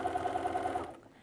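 A sewing machine fitted with a walking foot stitches a quilting row in a fast, rhythmic whir that stops abruptly after under a second.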